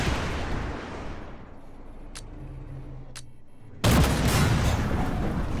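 Gunfire in a shooter game on the Frostbite map: a wash of noise fades, two sharp isolated cracks ring out, then a sudden loud burst of fire lands and continues.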